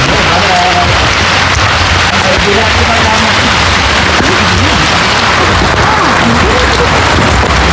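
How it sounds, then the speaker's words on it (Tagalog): Dense, steady downpour hissing loudly and continuously, with no pauses, filling the whole stretch. "Malakas ulan."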